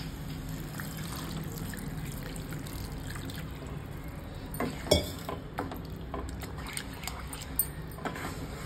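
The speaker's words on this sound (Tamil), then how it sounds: "கிரேவிக்கு தேவையான தண்ணி ஊற்றுறோம்." Water is poured into a village-style prawn curry gravy as it cooks. A steady watery wash runs throughout with occasional light clinks of utensils against the pot.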